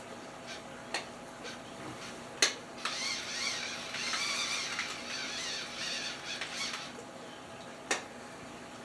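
A handheld seed grinder is turned in short bursts, giving squeaky, grating scrapes and sharp clicks at irregular intervals, close and fairly quiet.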